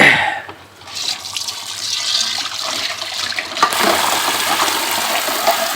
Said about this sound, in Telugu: ఫ్రెష్ నీళ్ళు పట్టాలి.